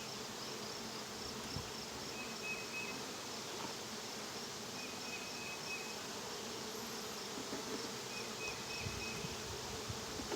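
A honeybee swarm drones steadily around a hive box, a dense continuous buzz with no gaps, thick and close, with occasional single bees whining past.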